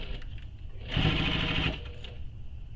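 A sewing machine runs in a single short burst of rapid stitching while basting the sides of a handmade wallet together, its whirring motor rising out of quiet room noise and stopping after under a second.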